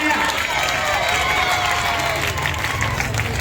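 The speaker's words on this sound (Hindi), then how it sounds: "इसलिए लड़कों के लिए जोरदार तालियां" Loud, steady applause from a school crowd for the boys' team that won the final of a general knowledge competition at an Urdu high school, dense, continuous clapping filling the room throughout.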